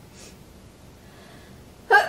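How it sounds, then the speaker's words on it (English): One short, abrupt sneeze breaks out at the very end after a quiet near-silent stretch, close and fairly loud. "I'm about to sneeze."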